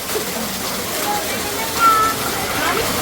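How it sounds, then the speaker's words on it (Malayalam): Steady rain falls outdoors during the autumn monsoon, a continuous even wash of drops with no breaks, close and fairly loud throughout. "അങ്ങനെ മഴ തുടങ്ങിയിരിക്കുന്നു ഗായ്സ്."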